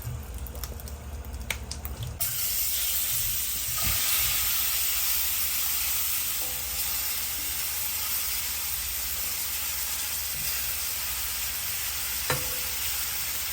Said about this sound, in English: we're gonna sit our shrimp flat down into the pan and we're gonna allow it to sear